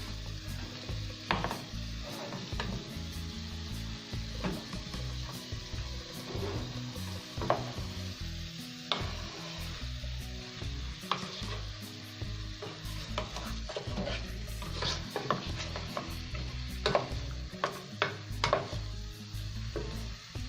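A cabbage and chicken mixture is stirred in a hot pan, with a constant sizzle and frequent close scrapes and clacks of the utensil against the pan, and no talking.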